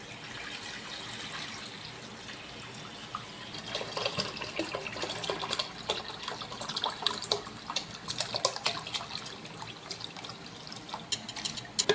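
Homemade beetroot wine pours into a clay pot as a soft, continuous liquid trickle and splash, heard close and fairly quiet, with the pouring growing busier midway.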